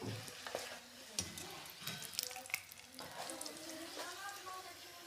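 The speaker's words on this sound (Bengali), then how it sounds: "নর্মাল পরোটাও আমার ভাজা চলছে" Plain paratha frying in oil sizzles quietly, with scattered clinks and scrapes of the cookware close by and a soft voice in the background.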